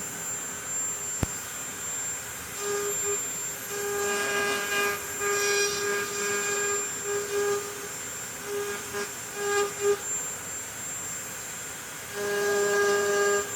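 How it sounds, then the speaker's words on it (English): A Dremel rotary tool carves small star shapes into wood along the grain, giving a high, steady whine that rises and dips as the bit bites in and lifts off, close and moderately loud, with no talking. "I'm going to keep my Dremel going basically the same direction as the grain"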